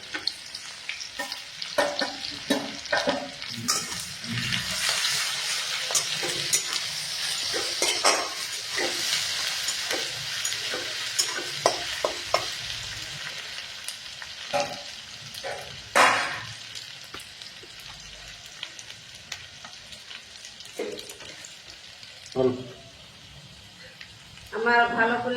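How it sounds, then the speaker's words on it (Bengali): Onion, garlic and ginger fry in oil in a pan, a persistent sizzle with frequent clanks and scrapes of a spatula stirring, while a person talks over the cooking at intervals. "আমার ভালো করে ভাজা হয়ে গেছে পেঁয়াজ, রসুন, আদা"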